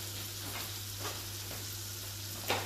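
A hake fillet fries in a pan with a soft, continuous sizzle, a low steady hum beneath it and a few brief crackling spits, the sharpest one near the end.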